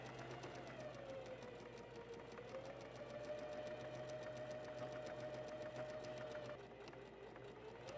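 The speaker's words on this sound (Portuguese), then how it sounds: "removo o alfinete e costuro" A sewing machine runs steadily, stitching fabric with a fast, even mechanical whir and needle chatter that holds almost unbroken for the whole stretch, then eases slightly near the end.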